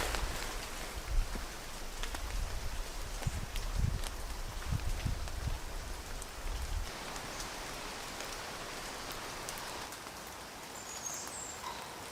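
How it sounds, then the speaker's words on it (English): Steady rain patters across a soaked woodland campsite, a dense even hiss with a few heavier drips and soft thuds in the first half, no voices. "It's been raining for the last few days."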